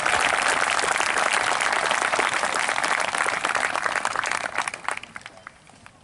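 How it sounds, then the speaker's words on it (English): A graduating high school class of 2021 receives a big round of applause at their graduation ceremony, dense steady clapping from a large crowd that thins and fades out over the final second. "Another big round of applause to our class of 2021."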